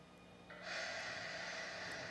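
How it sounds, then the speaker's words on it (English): A man sniffs a woman's hair in a horror film scene: one quiet, close breathy inhale that swells after a faint start and lingers softly against a hushed background. "he sniffs her hair"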